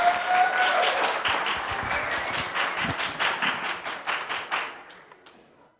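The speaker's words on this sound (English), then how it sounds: "Yes, give them a round of applause to start." Students in an engineering class applaud Formula student team presenters, the clapping loud at first, then thinning into scattered individual claps that fade out toward the end.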